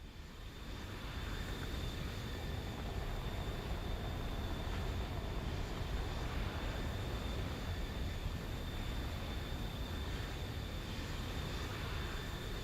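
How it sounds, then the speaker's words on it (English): Jet aircraft engine roar from an F-111 in the combat flight game War Thunder, a steady, continuous broadband rumble that holds at even loudness throughout with no talk over it. "There's an F-111 coming that way."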